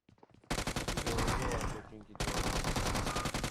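Gunfire in the shooter game PUBG Mobile: rapid, loud automatic bursts repeat in a fast steady rhythm, with a brief break before firing resumes, and a voice briefly overlaps.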